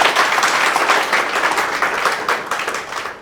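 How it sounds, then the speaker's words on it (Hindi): Audience at a business success-story meeting gives loud, sustained applause, dense clapping with a slight rhythmic pulse running the whole length, close and steady without talk. "एक बार यार महिला सशक्तिकरण की ताली बजा दी है, जोरदार ताली।"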